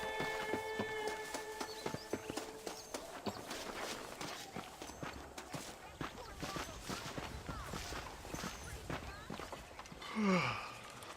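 A horse's hooves clip-clopping at a walk in the Red Dead Redemption video game, a steady close series of hoof falls with a brief snort or whinny near the end.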